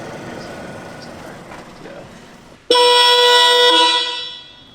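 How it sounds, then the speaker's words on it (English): A loud, steady upgraded Rivian car horn blares from about midway, holding one harmonic-rich tone for around two seconds before fading, after a stretch of low background noise. "And this is the new horn?"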